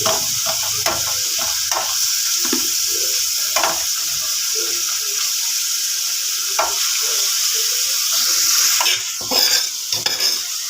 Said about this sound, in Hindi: इसे 10 मिनट तक हम फ्राई करेंगे ऑयल में।